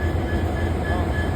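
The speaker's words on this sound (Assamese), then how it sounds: "আমাৰ ট্ৰেইনখন আহি আছে।" A passenger train arriving at a station in Assam, a steady low rumble of rolling wagons with faint wheel and rail noise throughout, continuous and moderately close, with no voices.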